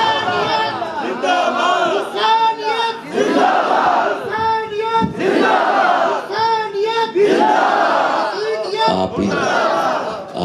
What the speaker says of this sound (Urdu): آپ اے ذرا نعرے بڑے ٹھنڈے لاندے ہو